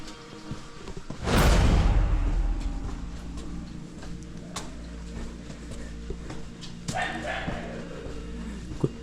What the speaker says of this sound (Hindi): कुत्तों की आवाज़ सुनाई दे रही है,